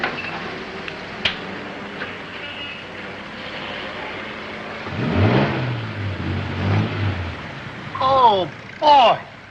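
A car engine in a vintage TV comedy revs up in a few rising bursts over a low rumble, with brief voices around it.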